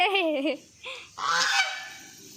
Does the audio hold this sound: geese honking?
yes